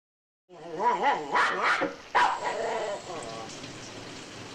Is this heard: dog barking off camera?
yes